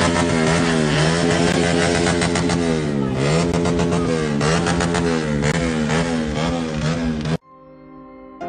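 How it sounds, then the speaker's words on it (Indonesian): A motorbike ridden by a young man in an alma mater jacket is revved hard in front of a line of police officers, its engine wailing in rising and falling surges before cutting off abruptly. "pemuda yang memakai jas alma mater itu menggeber motor"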